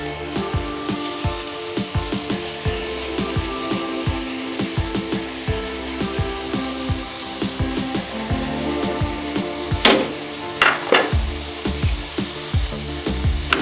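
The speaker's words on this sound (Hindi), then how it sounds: "मैं मुसलसल इसी तरह चमचा चला रही हूँ, इसे भून रहे हैं" A ladle stirs and roasts grated carrot halwa in a pan, giving close, steady scraping and rubbing strokes in an uneven rhythm throughout, with a few louder, sharper scrapes near the end and no voices.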